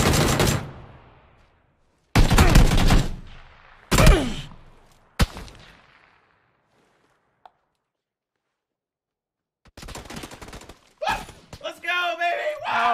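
Gunfire in the battle-royale shooter PUBG: several loud, sharp broadband bursts in the first five seconds, each decaying quickly, followed by silence and then excited players talking over the game.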